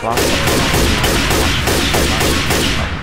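Dense, continuous gunfire in the video game Left 4 Dead 2 on the Dead Center campaign, loud overlapping rapid shots and bursts filling the whole stretch with no break.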